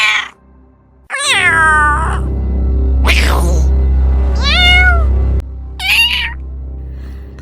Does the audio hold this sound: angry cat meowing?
yes